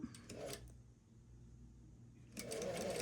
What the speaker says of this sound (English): If you sew the whole thing up this way. What I mean by that, we're doing it on the seam allowance.